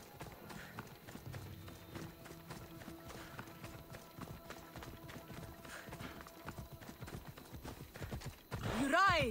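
In Assassin's Creed Odyssey, a horse gallops with rapid, close hoofbeats from start to finish. The run ends with a sharp whinny, and a faint voice is heard in the background.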